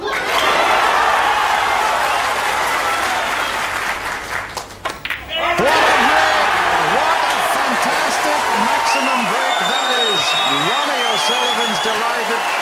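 Snooker crowd bursting into sustained applause and cheering after Ronnie O'Sullivan's 147 maximum break against Ebdon, loud and dense, dipping briefly midway before surging again, with a commentator's voice heard over the clapping.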